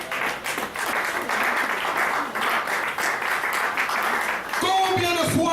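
Applause from a church congregation during a French-language sermon, a dense steady wash of clapping sustained for several seconds before a voice and music-like tones cut in at the end.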